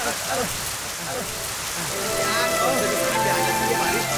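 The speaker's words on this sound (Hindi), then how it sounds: "अरे बाप रे बारिश आ गई, भागो भागो निकलो।" Heavy rain pours steadily in a Hindi-dubbed action film scene, a dense hiss throughout with clustered drops, while shouting voices run under it.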